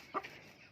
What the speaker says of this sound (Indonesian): contoh ayam yang kena ngorok selama berbulan-bulan.